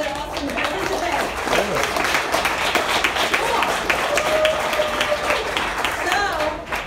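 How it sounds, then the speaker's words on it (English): Participants at a hackathon closing in New York give loud, sustained applause with a crowd murmur underneath, steady throughout, with whoops and voices mixed in. "give a round of applause to yourself and to all the other awesome participants"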